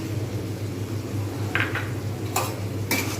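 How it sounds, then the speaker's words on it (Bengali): Potatoes, mushrooms and green chillies are stirred in a pan over a steady low sizzle, with a few sharp spatula clinks against the pan near the end. "এবার একটু ভালোভাবে নাড়িয়ে নেব"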